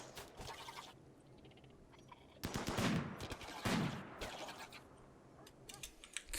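Sniper rifle gunfire in the colony game RimWorld arrives as a few sharp, loud cracks spaced a second or so apart, separated by quieter stretches, with no talking.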